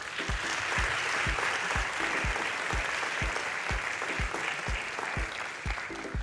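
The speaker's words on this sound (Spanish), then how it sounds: "Le damos un nuevo aplauso a María Cristina" An audience applauds a speaker at a science and technology congress. A steady wash of clapping runs throughout, and a regular thumping beat repeats underneath about twice a second.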